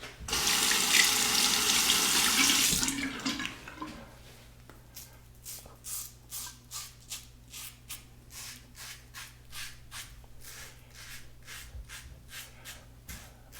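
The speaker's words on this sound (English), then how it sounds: "Now a final cold water rinse." Cold tap water runs loudly into a sink for a few seconds while a combination razor is rinsed, then stops, leaving a quiet stretch of faint rhythmic tapping and handling sounds with no talking.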